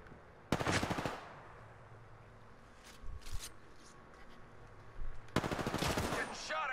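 Bursts of automatic gunfire from the video game Apex Legends, a loud rapid volley at the start, a few scattered shots in the middle, and another sustained burst near the end.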